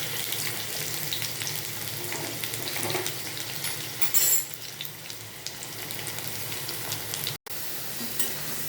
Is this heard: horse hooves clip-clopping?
no